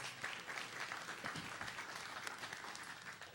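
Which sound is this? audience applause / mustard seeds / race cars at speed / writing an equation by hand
audience applause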